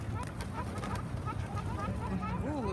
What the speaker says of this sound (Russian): Там голуби налетели.